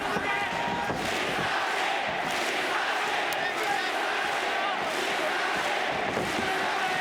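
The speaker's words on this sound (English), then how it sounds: "That cheer is for Misaki in the black." An arena crowd at a 2007 fight event roars and cheers for a fighter in black, a dense sustained wall of voices with shouts rising and falling throughout.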